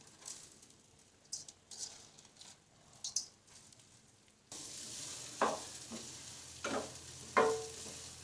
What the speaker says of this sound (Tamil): அதை இப்போது இதில் போட்டு ஃப்ரை பண்ணிக்கணும்.